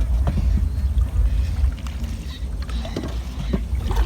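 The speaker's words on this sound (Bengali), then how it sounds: "নৌকা চালালে নৌকার সামনে যে একটা কলকল আওয়াজ হয়, নৌকার যে কলকল আওয়াজ হয়" Water gurgles and laps steadily at the bow of a rowing boat moving on a village river, a close, continuous low splashing with some wind noise.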